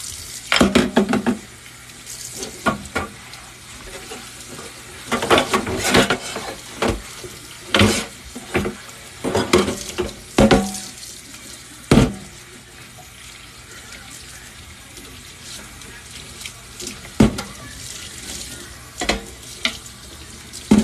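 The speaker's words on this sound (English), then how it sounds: "I'm just going to quickly do a few dishes, so I apologize for the loud noise." Running water and clattering dishes at a kitchen sink, loud and close, with bursts of splashing and knocks over a steady flow for about twenty seconds, no talk.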